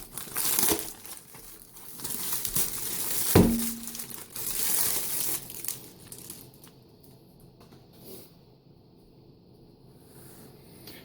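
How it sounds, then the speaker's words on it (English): Plastic packaging of a 2010 Ameriqual Humanitarian Daily Ration, Menu 5, is torn open with loud crinkling and ripping for several seconds, then the rustling fades to softer handling. "let's tear this open and see what we're working with here"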